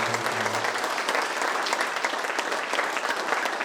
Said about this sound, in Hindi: एक बार पुनः जोर से हम ताली बजाएंगे।